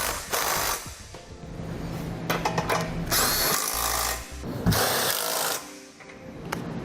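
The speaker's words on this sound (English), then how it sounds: "Next, we'll go ahead and tighten everything down." Power tool tightening Curt trailer hitch hardware on a 2014 BMW 4 Series, running in several bursts of whirring and rattling impacts, fairly close, with short pauses between runs.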